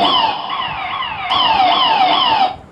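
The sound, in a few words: abandon alarm on a DCS plant control simulator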